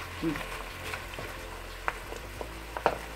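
Beef for a bouillon simmers and sizzles in its own juice in a pot, a soft continuous frying hiss with occasional faint pops and light clinks, close and fairly quiet, with no talking.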